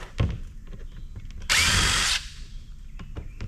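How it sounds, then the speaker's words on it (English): A power drill backs screws out of a cooler lid, with a single loud whirring burst of about half a second, set among light clicks and handling knocks in a quiet workshop. "I'm just getting these screws off so I can only get the lid out of the way to be one less thing for me to mess with."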